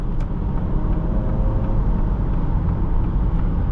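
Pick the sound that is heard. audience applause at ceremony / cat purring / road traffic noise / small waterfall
road traffic noise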